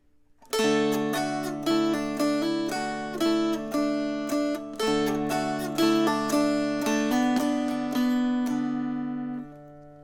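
A hammered dulcimer plays the tune "Angeline the Baker", each struck note ringing bright and metallic with long decays, in a steady, moderate rhythm.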